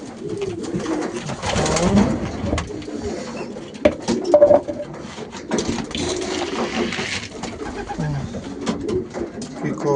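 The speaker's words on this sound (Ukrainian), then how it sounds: "Так, друзі, даємо голубам їсти." Racing pigeons coo steadily in a busy flock while being fed, soft throaty calls overlapping with rustling and a few flutters, close by, with faint voices mixed in.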